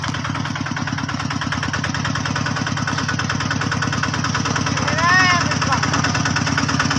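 A small diesel hand tractor engine chugs steadily at close range, its rapid even thumping unbroken throughout, with a brief higher whine rising near the end.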